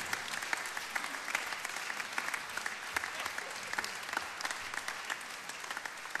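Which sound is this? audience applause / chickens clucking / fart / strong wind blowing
audience applause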